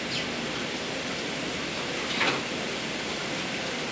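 Tap water runs steadily over basil being rinsed for a mushroom and zucchini vegetable lasagna, a constant broad hiss filling the whole stretch with one brief splashy swell partway through.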